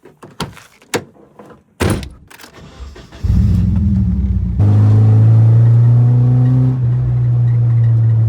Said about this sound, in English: the car sounds so much better